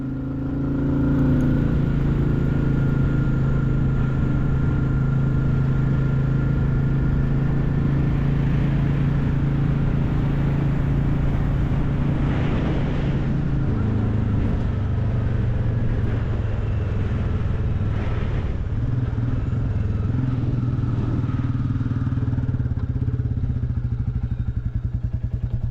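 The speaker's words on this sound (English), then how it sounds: "You need to do a wee flyby and let them see the Enfield on full song." A Royal Enfield Classic 350 single-cylinder motorcycle roars past on full throttle near Thorters Reservoir, its loud, steady thumping exhaust swelling and shifting in pitch as it goes by, with wind rumble throughout.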